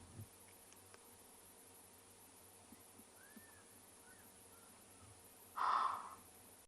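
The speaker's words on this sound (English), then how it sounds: "I heard a fish eagle." A fish eagle calls once from a distance in the open South African bush during a morning safari, a brief faint cry over a quiet outdoor background.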